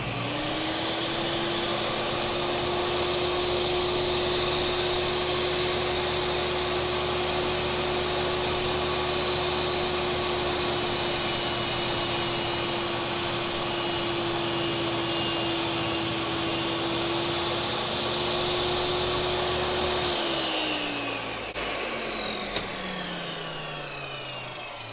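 A Hercules 10 inch table saw motor runs at a steady loud high whine for about twenty seconds, then winds down with a falling pitch near the end, close and alone.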